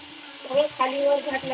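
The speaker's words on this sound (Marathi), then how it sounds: "ह्याच्यामध्ये मी आता शेपूची भाजी घालत आहे।" Dill (shepu) greens dropped into a pan where moong dal is frying, giving a soft, close sizzle with brief bursts of stirring and hissing; the sound swells twice, and faint voice traces sit under it.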